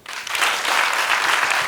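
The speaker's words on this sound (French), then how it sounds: "Applaudissements pour lui." A studio audience breaks into dense, steady applause for a newcomer on a French-language talk show, the clapping rising quickly and staying loud.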